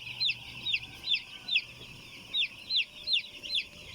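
Day-old chicks brood at 32 degrees under gas heaters in a flock of 8,000 birds on a Kenyan poultry farm, peeping in a steady chorus of short, rapid high chirps that repeat every half second or so.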